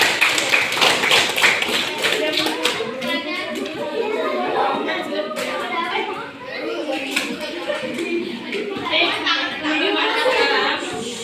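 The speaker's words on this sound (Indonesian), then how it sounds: "Oke, berikan aplaus untuk teman-teman yang sudah" Children in a fifth-grade classroom clap together, giving a loud, rapid patter of hands at the start and again near the end, mixed with chatter and children's voices.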